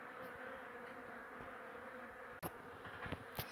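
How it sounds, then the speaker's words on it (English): Bees buzzing around a beehive in a bathroom, a continuous close hum with a few sharp knocks and clicks near the end. "block up the holes where you can see the bees getting in"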